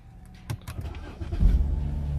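A 2011 BMW 328i is started, with a brief clicks and whir of the starter before the engine catches and settles into a low, close idle rumble, no talk.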